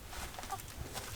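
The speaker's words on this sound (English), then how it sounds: "temporary chicken coop" A chicken clucks softly in short, irregular bursts near a temporary coop, faint and close, with no talking.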